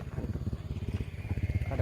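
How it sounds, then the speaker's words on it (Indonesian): A motorcycle passing close by gives a short burst of rapid, rhythmic low engine pulses that grow slightly stronger toward the end. "ada motor lewat doang"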